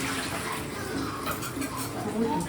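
Turmeric water is poured steadily for a puberty ceremony bath, a continuous splashing gush that stays fairly close and even throughout.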